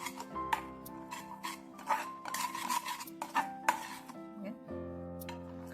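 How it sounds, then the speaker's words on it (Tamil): A spoon stirs rasgulla syrup with pistachios in a pan, making scraping and rubbing strokes with light clinks against the metal, close up, as a voice talks faintly in the background. "அதையும் சேர்த்து நல்லா கலக்கி விட்ருங்க."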